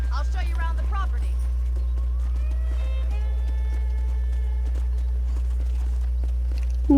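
Horse hooves clip-clopping while riding in the video game Red Dead Redemption, a steady walking beat of hoof strikes over a constant low hum, with talking and tonal voices early on.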